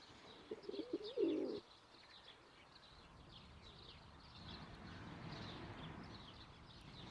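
Pigeons cooing in a garden, a close burst of low coos early on, then faint chirping birds and soft background noise.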